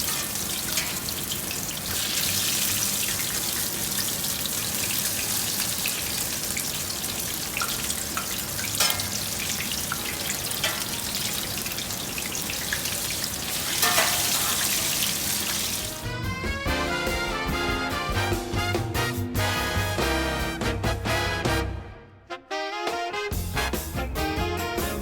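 A large batch of latkes fries in hot oil with a continuous loud, dense hiss and crackle; partway through, music comes in and takes over, briefly dropping out near the end.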